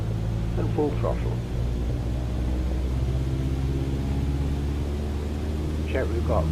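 A light aircraft engine runs at full throttle for takeoff, a steady loud droning rumble throughout, with a pilot's voice briefly heard over it near the start and end.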